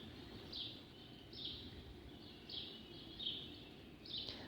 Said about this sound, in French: on entend les oiseaux qui se réveillent dans le jardin